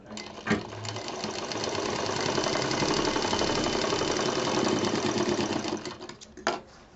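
A sewing machine stitches a seam in a patchwork bed cover, running in a fast, continuous mechanical chatter for several seconds after a brief start and stopping near the end with a couple of clunks.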